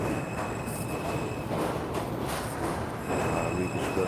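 A New York City subway train at a station platform, its steady broadband rumble and rattle filling the space with a high wheel squeal ringing over it at the start and again near the end, continuous and close.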